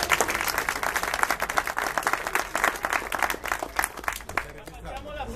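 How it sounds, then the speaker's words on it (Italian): Applause for a youth football team, a dense spell of clapping from a group, fairly faint and uneven, with chatter and voices running underneath. "quindi un bel applauso al team Camoghese."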